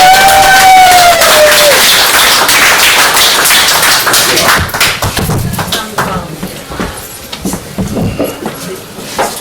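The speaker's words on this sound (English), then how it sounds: "So we'll all give him a very big round of applause." Audience at a literary open-mic night claps and cheers for Tom, a dense, loud burst of hands that thins out after a few seconds, with thuds and voices breaking through as it fades.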